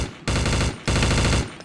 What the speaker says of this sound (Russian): он стреляет по мне, вы видите